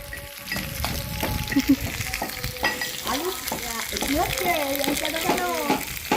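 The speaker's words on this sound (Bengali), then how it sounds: "আলু ভাজা হয়ে গেছে" Potatoes fry at a family picnic, a continuous crackling sizzle with stirring scrapes, while voices talk over it throughout.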